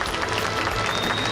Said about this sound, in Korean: 김동화 박수 부탁드립니다.